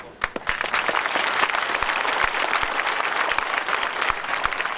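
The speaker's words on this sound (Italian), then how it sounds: "Un lungo applauso" Long, steady applause from mourners at the funeral of a railway worker in Botricello, dense clapping sustained throughout without pause.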